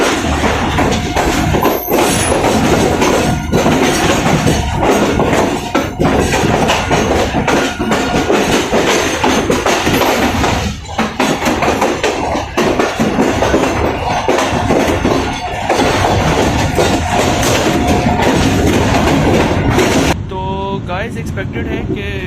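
A Pakistan Rail AC sleeper train running from Karachi to Multan, heard from inside as a loud, constant rumbling roar with rattling and clanking wheel-on-track knocks, and voices speaking over it at times.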